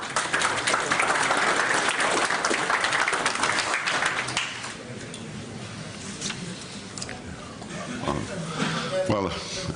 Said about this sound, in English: with the nice Nordic-style warm applause